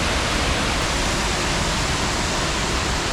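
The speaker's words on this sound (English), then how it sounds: "Waterfall number 6." The sixth waterfall of Johnston Canyon, Canada, roars steadily, a dense, unbroken rush of falling water filling the whole scene at close range.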